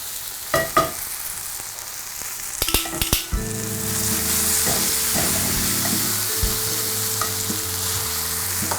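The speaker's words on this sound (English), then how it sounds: "The sizzling will start to slow down." Lion's Mane mushroom steaks sizzle and crackle in a hot frying pan, a steady hiss with scattered pops and a few clatters of handling near the start.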